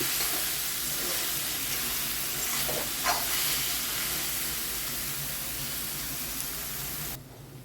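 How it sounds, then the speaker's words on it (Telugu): Shredded cabbage frying in a pan gives a steady, close sizzle and hiss throughout, with a brief stirring scrape in the middle before the sound drops slightly at the end. "క్యాబేజ్ ఫ్రై అవుతుందండి ఇంకా కొంచెం ఫ్రై అయితే బాగుంటుంది"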